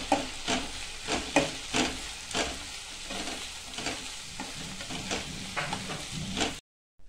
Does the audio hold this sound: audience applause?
no